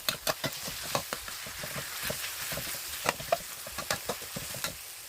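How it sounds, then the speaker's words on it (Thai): Pork stir-frying with chili and garlic in a pan for pad kaprao, with a close sizzle broken by repeated sharp scrapes and clacks of a spatula in an irregular rhythm. "นี่ก็หมูครับ แล้วคว่าหมูให้สุกก่อน"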